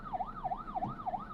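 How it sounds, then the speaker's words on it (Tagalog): A barangay ambulance siren wails in smooth rising and falling sweeps, about four cycles in quick succession, heard at a moderate distance with nothing else over it. "Ambulansya ba yun? Ambulansya ng barangay."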